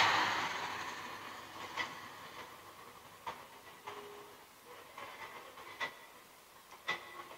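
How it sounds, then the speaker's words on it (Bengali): Train pulling out of Mymensingh railway station, a fading hiss with scattered faint clanks and knocks spaced irregularly, growing quieter. "ট্রেন যাচ্ছে"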